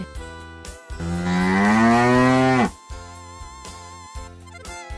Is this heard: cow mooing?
yes